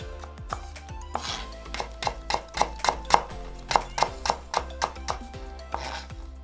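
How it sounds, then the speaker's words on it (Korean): A knife thinly slices halved burdock root on a cutting board, a series of crisp, evenly paced chops close by, speeding up into a quick regular rhythm before stopping. "물기 빠진 우엉은 반을 갈라주고 얇게 어서 썰기 해준다."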